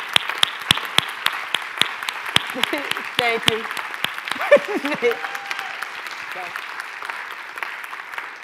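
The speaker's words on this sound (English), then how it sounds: "if you want to take a stand so we can give her a round of applause" An audience applauds a breast cancer survivor standing at a Pink Power Day gathering. The clapping is dense and steady for the whole stretch, trailing off slightly near the end, and a voice speaks briefly over it.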